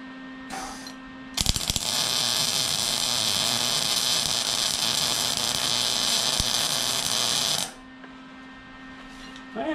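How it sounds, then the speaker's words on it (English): Arc welding lays a bead during a wheelie bar repair: a loud, steady crackling buzz runs for about six seconds, with a low electrical hum before and after and no speech. "Let's see if I can do a bead first before I try to do it on the wheelie bar."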